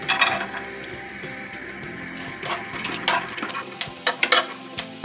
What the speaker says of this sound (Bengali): ঘিয়ে আমরা এই বাদামগুলি প্রথম ভেজে উঠাবো।